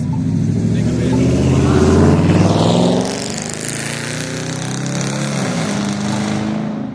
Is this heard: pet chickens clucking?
no